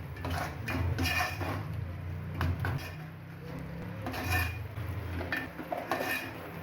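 Masala for Vidarbha-style patvadi rassa roasting in oil in a pan, with repeated scraping and stirring of a utensil against the cookware over a low, steady background.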